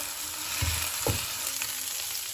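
Pieces of meat sear in a hot frying pan for a Tyrolean gröstl, giving a steady close sizzle and crackle with a couple of soft stirring knocks.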